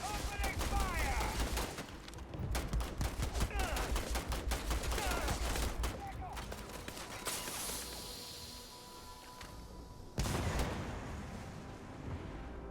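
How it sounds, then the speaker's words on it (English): Gunfire in Starfield, rapid bursts of shots in quick succession across most of the stretch, loud and close, with a pause before a renewed burst near the end and game noise underneath. "Opening fire."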